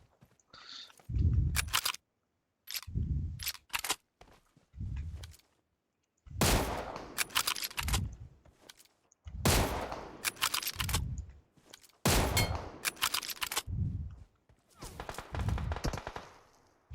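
Gunfire in the mobile shooter PUBG Mobile comes in loud, sharp bursts of rapid shots separated by short silent gaps, repeating across the stretch with no talk over them.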